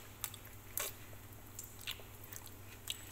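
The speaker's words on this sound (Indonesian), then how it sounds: "yuk kita coba makan keju" Biting and chewing toasted bread with cheese, faint close crunchy bites and soft squishy chewing in a quiet room, scattered irregular crunches over a low background hum.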